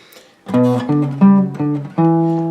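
A short guitar riff variation of five sustained notes played one after another, each with a clear attack and ringing tone, close and fairly loud.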